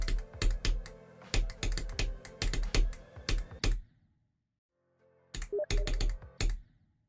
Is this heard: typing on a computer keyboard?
yes